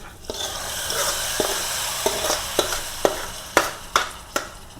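Hot tempering of reddened chillies in oil poured into a dal and colocasia-leaf curry, raising a broad hiss of sizzling with sharp spoon clinks and stirring knocks growing louder toward the end, close up.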